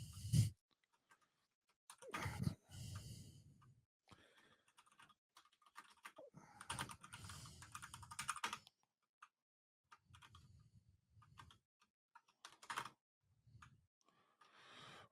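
Typing on a computer keyboard: quiet, close bursts of keystrokes come in short clusters separated by pauses, with no voice.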